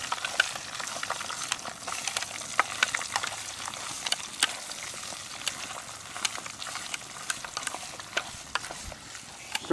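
Beef fat rendering into tallow in a pot is stirred, giving a dense crackling fry and gentle bubbling with frequent small scrapes and clicks of the utensil, steady and close throughout.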